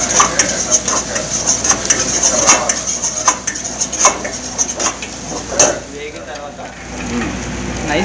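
A knife chops finely through garlic and ginger on a kitchen board in rapid, fairly close taps, with clinking utensils and a high kitchen hum.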